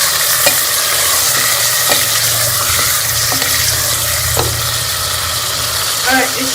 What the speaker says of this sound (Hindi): हम इसमें बीफ शामिल कर लेंगे और बीफ को कलर चेंज होने तक भून लेंगे।